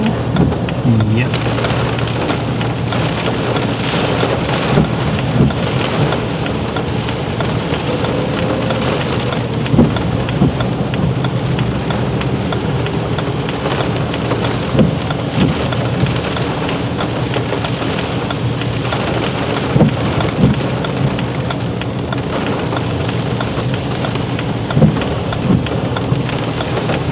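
Heavy rain pounds steadily on a car in motion, a dense continuous roar with scattered louder drops and faint low rumbles of thunder beneath.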